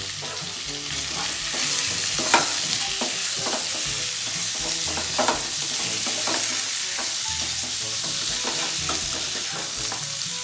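Pork dropped into plenty of hot oil sizzles loudly and continuously while a spatula stirs and scrapes it around the pan, with frequent clacks and a steady crackling hiss, close up and without speech.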